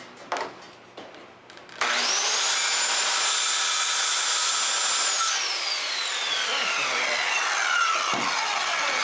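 A power saw cuts through wood for a door frame, starting with a sharp whine that holds steady for several seconds and then winds down, after a few short knocks.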